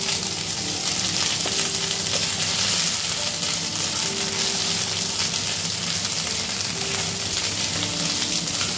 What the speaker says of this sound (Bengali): এই তেলের মধ্যে এবার আমি দিয়ে দিচ্ছি এখানে আদা বাটা 1 চামচের মতো